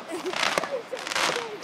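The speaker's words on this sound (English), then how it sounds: "there's some unbelievable fireworks going on" Fireworks bursting outdoors on Bonfire Night, with a string of crackling, popping bangs near and far, ringing out over a noisy street while people talk nearby.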